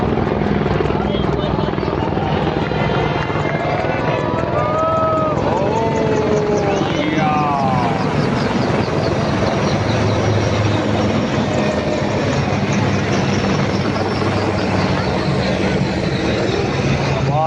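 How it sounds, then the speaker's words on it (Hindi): Apache and Prachand light combat helicopters pass overhead in a loud, sustained rotor roar and thrum, while a commentator speaks over the noise throughout. "अपाचे के पीछे भारतीय वायुसेना के 2 लाइट कॉम्बैट हेलीकॉप्टर प्रचंड"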